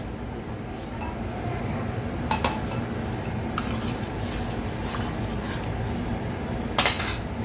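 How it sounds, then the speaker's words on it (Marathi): A spoon stirs watermelon juice with chaat masala in a glass, faint scattered clinks and taps over a steady low background hum. "आता आपण हे सर्व मिक्स करून घेतोय."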